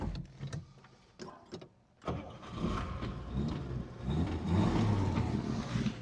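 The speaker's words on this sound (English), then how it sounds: "I'm gonna go ahead and start the car and let you guys listen to that engine" A 1955 Chevrolet Bel Air with its 235 inline-six cranks with a few clicks and then catches, settling into a quiet, steady idle through a single exhaust.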